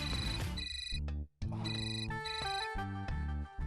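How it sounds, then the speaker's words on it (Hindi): A mobile phone rings in a home scene from a Hindi TV serial, its loud, melodic, tonal ringtone looping continuously with only one brief gap and no talk over it. "फोन कौन कर रहा है इसमें?"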